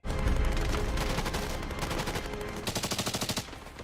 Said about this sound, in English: No, they're just shooting.